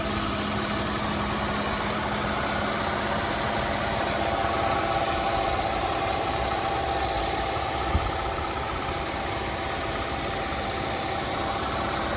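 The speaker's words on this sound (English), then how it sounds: "I'll take you guys closer to the engine bay and so you guys can hear it run." The 3.2-liter engine of a 2008 Volvo XC70 AWD idles steadily, heard close up from the engine bay as an even, continuous hum with no revving.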